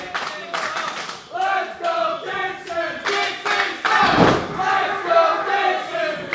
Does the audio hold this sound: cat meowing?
no